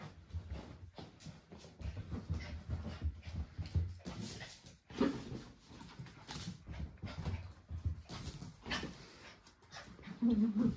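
A dog whimpers and pants steadily through a bath, soft whines and quick breathing repeating close by, with splashes and handling noises beneath and a brief louder whine near the end.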